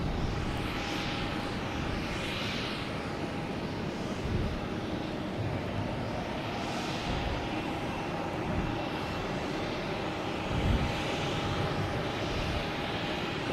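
A Delta Embraer E175 jet takes off from Boston Logan, a sustained engine rumble and whine at moderate distance, steady with slight swells and occasional low gusts of wind, no voices.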